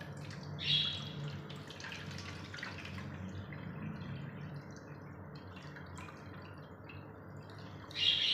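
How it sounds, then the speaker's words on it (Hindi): Discolored water from a kitchen cleaning soak is strained out of one pot into another, a soft, steady trickle and splash with a couple of brighter clinks at the start and end. "चलिए अब इसको छान लेते हैं दूसरे बर्तन में"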